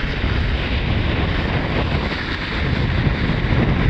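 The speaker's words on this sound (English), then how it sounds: "Crashing through the waves." A racing sailboat bound for Bermuda ploughs through open ocean swells, a dense continuous roar of rushing water, spray and wind buffeting the microphone, loud and close throughout.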